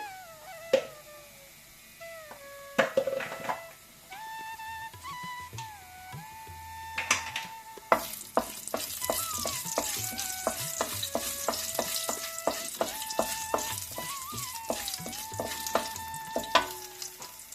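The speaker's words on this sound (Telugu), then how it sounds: "నేను ఆయిల్ వేసుకున్నాక మినపప్పు వేసుకొని ఫ్రై చేసుకుంటున్నానండి." Urad dal and mustard seeds frying in hot oil for a crispy aloo fry: crackling sizzle and popping build from midway and run steadily under a melodic background tune, with a few sharp clicks early on.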